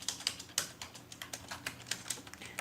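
Rapid keystrokes on a computer keyboard click at a steady, fairly quiet pace, typed while writing HTML code, with no talking.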